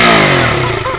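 A KTM Duke 200 motorcycle engine idles close by just after being started in neutral, a loud steady mechanical drone for about a second.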